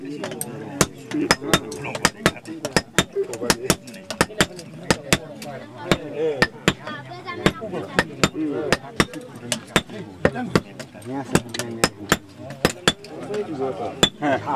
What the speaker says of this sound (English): One smith holds the iron on the anvil with tongs, while they both hammer it into shape.